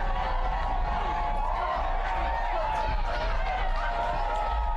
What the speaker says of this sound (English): Crowd getting loud at the moment.